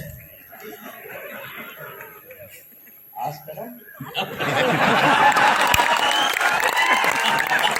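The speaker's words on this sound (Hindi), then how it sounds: "ताली कैसे बजते हैं सीख के जाओ" A large audience at a Hindi poetry recitation bursts into sustained applause with some laughter, loud and dense after a quieter opening of murmuring crowd noise.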